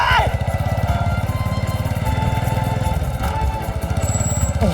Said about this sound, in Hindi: अरे समीर संभाल के, बाइक की ब्रेक खराब है, संभाल के।